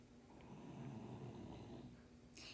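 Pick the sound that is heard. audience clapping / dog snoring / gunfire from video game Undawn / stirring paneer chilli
dog snoring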